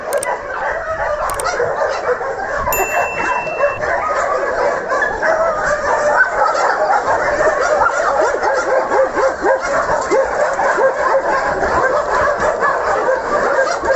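Shelter dogs bark, yip and whimper through a cold winter day, a dense, continuous chorus of many dogs at moderate distance with a few sharp closer yips near the start.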